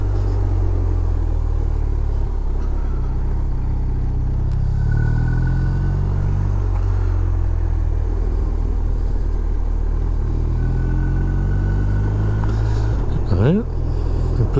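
A BMW R1250R motorcycle on a road ride gives a low, steady engine and exhaust rumble close by, under constant wind noise with no sharp revving.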